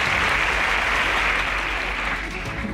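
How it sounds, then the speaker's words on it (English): A studio audience at a Nigerian competition show applauds, a dense, steady clapping that fills the space and fades slightly at the end, with a voice faintly under it. "Please, a round of applause for Bafemi as he exits"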